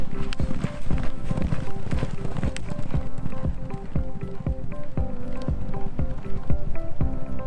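Thoroughbred gelding racehorse hooves clopping in a stable yard, a steady run of sharp near hoof strikes with a busy background and voices talking underneath.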